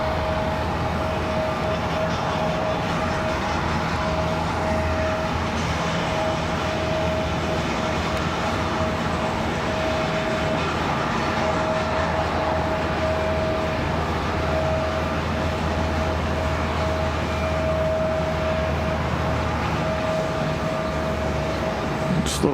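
A plane arriving to land at Raleigh-Durham International Airport, heard as a steady, broad, loud roar throughout with a sustained whine, with no talk.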